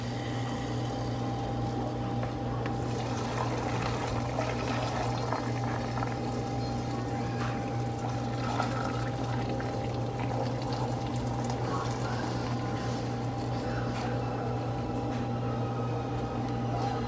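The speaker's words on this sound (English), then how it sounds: "So now I just need to pour my brine over it." Pickle brine pouring over cucumbers, garlic and dill sprigs in a home kitchen: a steady, continuous liquid rush and bubbling wash that runs unbroken throughout, moderately loud and close, with no talk.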